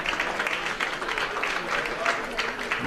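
Moderate applause from spectators at the women's -41 kg event of the 2015 IPC Powerlifting European Open Championships in Eger, a steady patter of many hands heard from a distance in a large hall.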